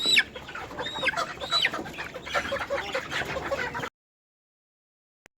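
Chickens being caught cluck and squawk in agitated, overlapping calls, loud and close for about four seconds, then go abruptly silent.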